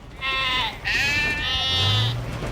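Cartoon children imitating a goat's bleat, three wavering, nasal, near bleats in quick succession, loud and clear with no other talk.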